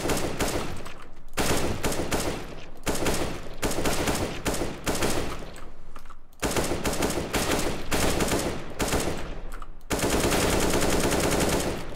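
Rapid automatic gunfire in CS:GO, loud dense bursts of shots separated by brief pauses, ending in a longer sustained volley, with no talking.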